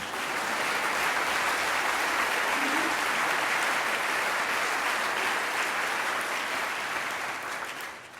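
An audience at a solidarity service claps in a dense, sustained round of applause filling the room, steady and loud before easing slightly at the very end.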